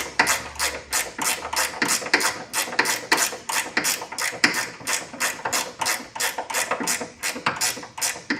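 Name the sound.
ratchet tightening bolts on a Triumph TR6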